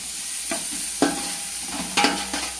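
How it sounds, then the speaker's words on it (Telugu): Ginger garlic paste and coriander-cumin powder fry in a pan for chicken dum biryani, a soft steady sizzle broken by a few sharp scrapes of a stirring spoon. "అది కూడా ఒక 2 నిమిషాలు వేపుకోవాలండి. పచ్చి వాసన పోయే వరకు వేపుకోవాలండి."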